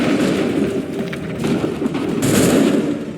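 Musket volley fire in Assassin's Creed 3, a dense continuous roar of overlapping shots and booms with a louder burst near the end, loud and close.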